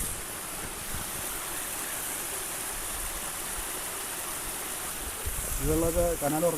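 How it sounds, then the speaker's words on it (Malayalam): A continuous rushing of stream water beside paddy fields near Kochambalam, Kunnikode, fills the scene, steady and fairly loud, with a voice briefly speaking near the end. "വെള്ളത്തിൻ്റെ സൗണ്ട് കേട്ടോ"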